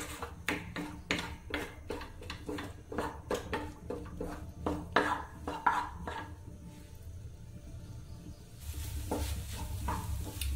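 Egg bhurji stirred in a pan, the cook drying out its moisture: a run of close, uneven scraping and tapping strokes over a low sizzle, thinning out midway before a broader, steady frying hiss swells near the end.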